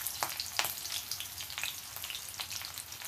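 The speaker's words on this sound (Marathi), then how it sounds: "लसूण थोडासा परतून झाला की त्याच्यात घालूया 2 कट केलेल्या मिरच्या, मध्ये चिरलेल्या आहेत त्या।" Cut green chillies hit garlic frying in a pan for a traditional Marathi bamboo shoot bhaji, giving a steady close sizzle with small crackles and stirring pops and no voices.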